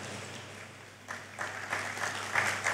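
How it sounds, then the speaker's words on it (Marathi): An audience at a scientist's lecture breaks into applause that swells from a quiet patter to fuller clapping over a few seconds. "आता ह्या ज्या टाळ्या आहेत त्या मला नाही आहेत, हे ChatGPTला आहे"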